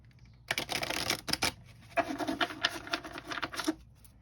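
Tarot cards shuffled by hand, two brisk riffling bursts of papery patter, soft and close, with a short pause between.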